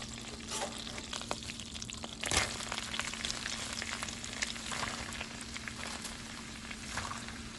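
Kale, Brussels sprouts and cabbage frying in a pan with grapeseed oil and butter, a steady close sizzle with crackles and one brief louder spatter, no voices.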